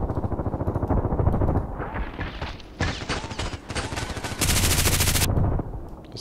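Gunfire in the online shooter Contract Wars: loud, close bursts of rapid automatic shots with sharp reports and short pauses, including a sustained dense volley near the end.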